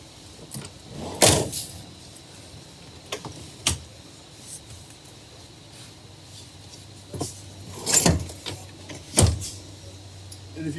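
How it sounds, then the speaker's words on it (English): Power seats in a 2017–2020 Hyundai Sonata motoring all the way forward inside the cabin, a series of mechanical whirs and clunks from the seat tracks, some loud and close, with quiet pauses between, no talking. "first thing we're going to do is move these seats all the way forward"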